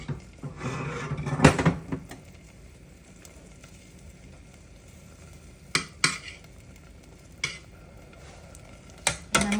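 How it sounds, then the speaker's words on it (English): Onions stirred into boiled, mashed plantain in a pot, with a spoon giving a few sharp knocks and clanks against the pot, spaced apart over a faint background of soft scraping. "I'm going to stir it together."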